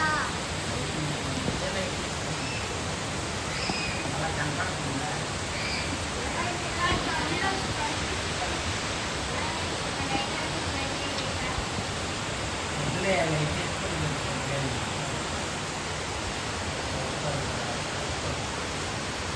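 Tornado or hurricane wind blowing outside near a coconut tree, a dense, steady roar of rushing air filling the whole stretch without letup, with faint voices blurred beneath it.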